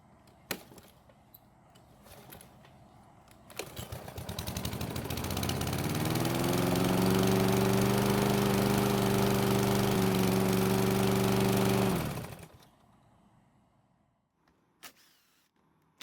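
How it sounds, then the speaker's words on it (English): A Husqvarna lawn mower with a lot of problems is pull-started after a few clatters, then its engine runs loud and steady for about eight seconds before cutting out into quiet. "the engine did start and run"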